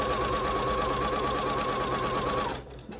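A sewing machine runs at a steady, fast, even hum as it stitches fabric for a hair scrunchie, loud and close, stopping abruptly near the end.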